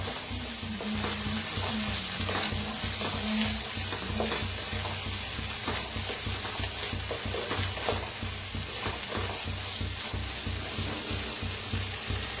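Eggs fry in a pan with turmeric for an egg curry, giving a steady close sizzle throughout, with a spoon stirring and scraping repeatedly against the pan.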